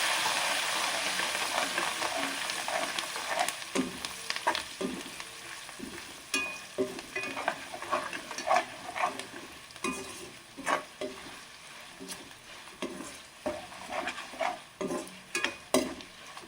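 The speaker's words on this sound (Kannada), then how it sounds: "ಬೆಳ್ಳುಳ್ಳಿ ಸ್ವಲ್ಪ ಫ್ರೈ ಆಗಲಿ, ಚೆನ್ನಾಗಿರುತ್ತೆ" Garlic and curry leaves frying in a pan for Andhra-style gongura pachadi, with a soft continuous sizzle and frequent spatula clinks and scrapes growing busier toward the end.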